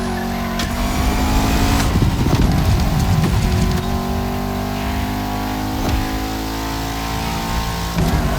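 A car in The Crew Motorfest driven flat out, its engine roaring loud and close as it revs hard through the gears, with brief shifts and a steady high-power drone throughout.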